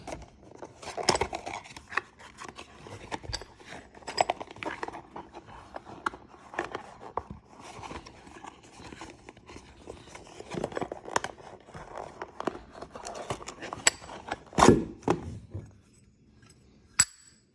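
Cardboard box holding a Tusk 48mm fork seal driver being opened, with scattered close scrapes, tears and light clinks of packaging and metal over about seventeen seconds, ending in near silence; no talk.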